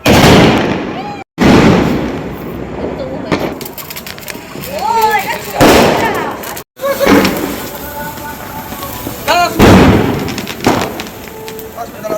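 Firecrackers going off during Diwali celebrations: repeated crackling bursts and pops, loud and close, over a noisy background of crowd voices, with a couple of sharp cuts in the sound.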